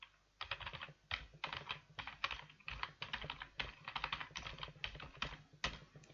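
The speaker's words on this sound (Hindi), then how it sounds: "तो मैं टाइप करता हूं।" Fingers type quickly on a computer keyboard, with a dense run of light, close keystrokes in irregular bursts and no voice over them.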